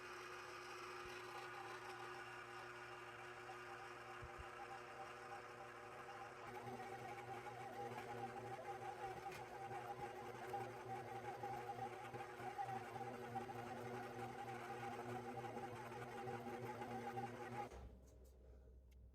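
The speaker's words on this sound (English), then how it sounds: "I am going to get this set up over on my KitchenAid and get it mixing for a couple minutes" A KitchenAid stand mixer runs steadily on low speed while kneading sourdough bagel dough, giving a continuous motor whir with a mechanical hum, then cuts off near the end.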